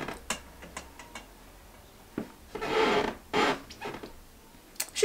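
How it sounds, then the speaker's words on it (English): A wooden floor creaks and groans in a few drawn-out strains among scattered soft ticks and knocks, faint and close in an otherwise quiet room. "She making all these videos and her floor sounds like this."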